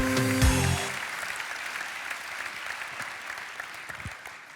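Audience at an agricultural awards ceremony in Côte-d'Or gives a round of steady applause, moderately loud and continuous after a brief spoken word at the start, fading slightly toward the end.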